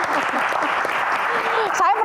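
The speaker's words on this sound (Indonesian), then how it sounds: "Tepuk tangan silakan" Brief burst of studio-audience applause during a talk show interview, dense even clapping with voices mixed in, ending abruptly.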